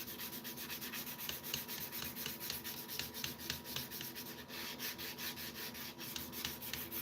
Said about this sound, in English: sand this primer right before I spray, just to make sure everything's nice and smooth